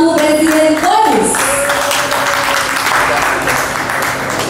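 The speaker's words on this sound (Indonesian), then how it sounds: "beri tepuk tangan yang paling meriah" An audience at an Indonesian awards event bursts into loud, sustained applause for an invited official, a thick wash of clapping that follows a brief tone at the start and carries on to the end.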